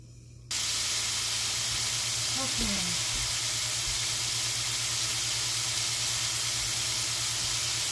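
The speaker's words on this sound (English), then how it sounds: "We got that cut up and we're just going to fry them up." A steady, loud sizzle of food frying in a pan begins abruptly after a brief quiet moment and continues unbroken.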